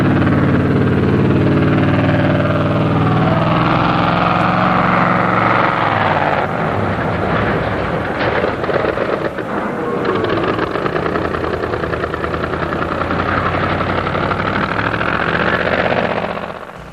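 Engine of an M4 tank retriever, a World War II–era vehicle built around 1942, running steadily with a loud, dense mechanical drone and rumble that carries through the whole stretch without talk.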